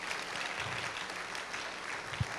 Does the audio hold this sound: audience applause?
yes